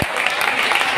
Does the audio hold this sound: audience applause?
yes